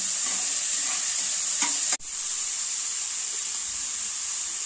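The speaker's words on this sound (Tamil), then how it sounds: "வெங்காயத்தை நல்லா பொன்னிறமாக வறுத்துடணும்." Onions and tomatoes fry in a pan, a steady loud sizzle running throughout while being stirred, with soft scraping stirs and one brief break in the hiss near the middle.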